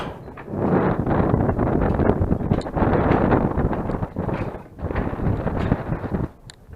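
Cool wind blows near a suspension bridge below a dam, buffeting the microphone in loud surging gusts that ease briefly, then cut off near the end.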